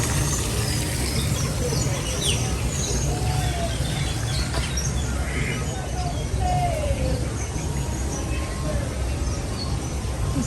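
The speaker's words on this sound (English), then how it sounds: "These birds are so cool." Birds chirp and call in a theme park bird enclosure, with a few short whistled notes scattered over a loud, steady wash of background noise.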